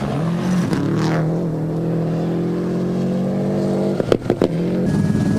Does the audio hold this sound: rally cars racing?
yes